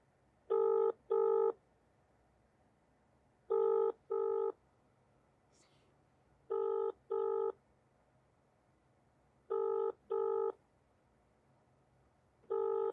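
An unanswered telephone ringing, with paired electronic ring bursts repeating at regular intervals of about three seconds, clear and fairly quiet against a low background hum.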